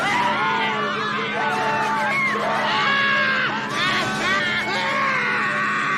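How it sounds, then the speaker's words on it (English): The stock movie scream from the 1988 film The Return of the Living Dead Part II: shrill, wavering screams and yells rise and fall over a noisy crowd-like background, loud and close. "this is the movie that stock scream came from"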